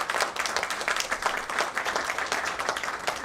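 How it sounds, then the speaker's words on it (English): An audience at a BSE listing ceremony for RBZ Jewellers Limited claps in a dense, steady round of applause, close and lively throughout. "a big round of applause for the entire team here"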